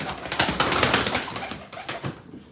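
Pigeons in a loft make a close burst of fluttering, flapping wings and soft rustling that is loud at first and then fades, with no speech.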